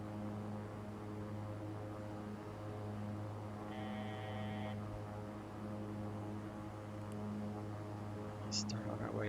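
Steady propeller drone of a Super King Air 350 in flight in the X-Plane 11 simulator, a constant low hum throughout with a brief tone and faint radio-style talk over it.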